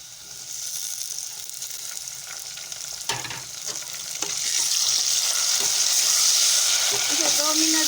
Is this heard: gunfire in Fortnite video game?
no